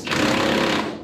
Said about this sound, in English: He hits it with the impact, gets it to start spinning.